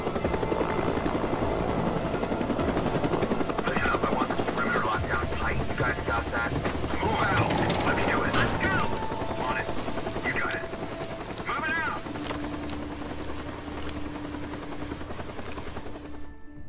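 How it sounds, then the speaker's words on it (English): A helicopter in the video game Days Gone chugs with a steady, loud rotor drone throughout, with game sounds and other noises layered over it. "They're chasing a heli."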